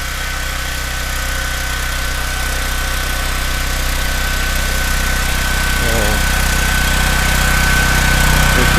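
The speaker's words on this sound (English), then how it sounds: "And there's our generator right here." A generator engine running outdoors during a February snow storm: a loud, steady idling drone with constant mechanical vibration, close and unbroken throughout, with no talk.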